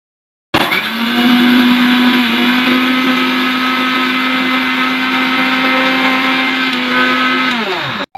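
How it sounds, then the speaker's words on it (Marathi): An electric mixer grinder whirs loudly and steadily as it grinds dried rice into flour, a strong continuous motor hum that starts suddenly, holds nearly level for about seven seconds and then stops. "आता आपण याला मिक्सर मध्ये बारीक करून घेऊ"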